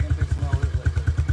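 Close motorcycle engine pulling a wheelie, a heavy, rapidly pulsing low growl with a steady throbbing rhythm.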